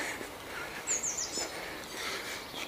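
Birds chirp in a green park in spring, a few brief high calls rising over steady outdoor ambience, faint and at moderate distance with no voices.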